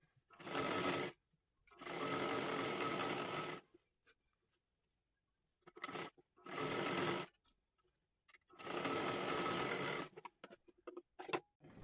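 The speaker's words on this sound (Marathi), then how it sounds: "पूर्ण कडेपर्यंत शिलाई मारून घ्यायची." A sewing machine stitches along a fabric edge in three or four separate bursts of close, steady mechanical whirring, with quiet pauses and small handling clicks between runs and no talking.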